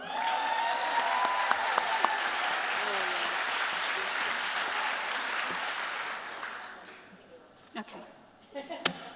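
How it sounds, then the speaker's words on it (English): Conference audience applauding steadily for several seconds, a dense wash of clapping that fades out toward the end, followed by a few scattered claps and faint voices. "She deserves another applause."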